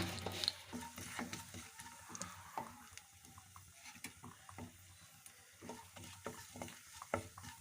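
A tempering of dried red chillies and cumin seeds sizzles in hot oil while a spoon stirs and scrapes against the pan, giving close, irregular clicks and scrapes over a steady frying hiss.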